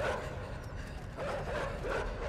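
Dogs in the video game Inside barking and chasing, with repeated yips and bow-wow barks in short bursts at a moderate distance over a noisy background.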